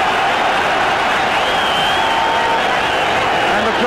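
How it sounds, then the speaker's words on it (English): A football stadium crowd roaring at a European Cup Winners' Cup quarter-final between Wrexham and Anderlecht, a dense, continuous wash of cheering voices, loud and steady throughout. "And the crowd now in full voice"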